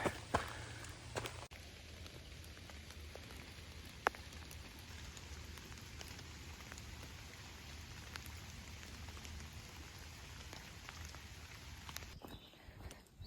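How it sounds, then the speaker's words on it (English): Steady rain falling on the Appalachian Trail in Pennsylvania, a soft continuous patter with occasional sharper drops and taps, fairly quiet and without any talking. "It's raining a bit again."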